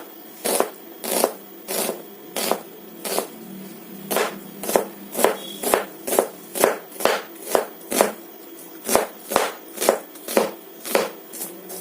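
A knife chops ingredients for mutton curry on a board, with about twenty crisp, evenly spaced strokes close up that quicken into a steady rhythm, and no talking.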